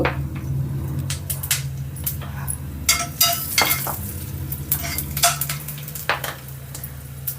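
Coriander seeds dropped into a tablespoon of hot oil in a pan for tomato chutney, a close crackling sizzle with bursts of scraping and clinking as they are stirred around.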